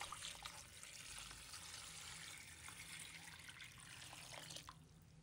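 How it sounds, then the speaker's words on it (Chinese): Clean water pours into a large basin holding crown daisy greens, a soft, steady splashing rush that stays faint and even throughout, with no voices. "倒入清水"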